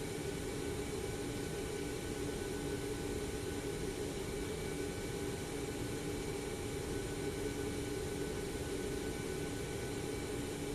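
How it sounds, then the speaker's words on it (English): Steady broadband roar with faint tonal whine from the iFly 737's jet engines running after start in Microsoft Flight Simulator 2024, constant and loud throughout with no talk. "We've got 2 good engine starts."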